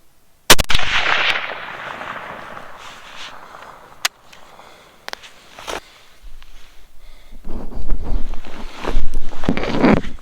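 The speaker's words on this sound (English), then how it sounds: "I just shot a black bear." A rifle shot fired at a black bear on a Wyoming wilderness hillside during a backpack hunt: one loud, sharp crack near the start, followed by a few fainter knocks and outdoor handling rustle, with no talking.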